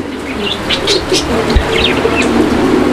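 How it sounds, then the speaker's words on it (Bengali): A pair of Lahori pigeons, one black, coo softly in a breeding loft, with chirps and faint wing flaps over a steady background hum. "এখানে চমৎকার আরো এক জোড়া কবুতর, দুইটাই লাহোরি কবুতর"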